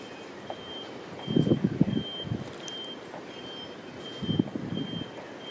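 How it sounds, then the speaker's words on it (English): Alarm buzzers sound after Hurricane Irma at Oyster Bay, a steady repeating electronic beep pulsing over gusty wind rumble, with louder bursts of wind noise buffeting the microphone. "A lot of buzzers going off everywhere."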